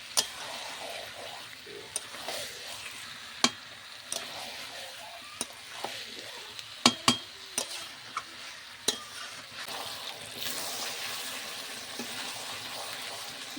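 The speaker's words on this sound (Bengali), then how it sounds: "এবার মাংসটাকে ভালো করে কষাতে হবে টাইম নিয়ে।" Chicken curry being stirred and fried in a pan, a soft steady sizzle with scattered clicks and scrapes of the spoon against the pan, quiet and close, with no talking.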